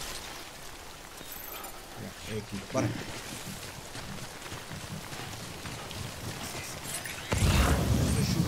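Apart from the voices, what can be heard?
rain falling in video game Death Stranding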